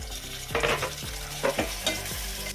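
Chopped tomatoes with ginger garlic paste sizzle softly in a pan while a spoon stirs them in several distinct scraping strokes, close and fairly quiet, with no voices.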